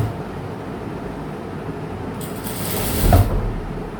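Sewing machine stitching thread piping onto a round neckline, a low mechanical hum that swells into a brief louder whirring run of stitches before easing off.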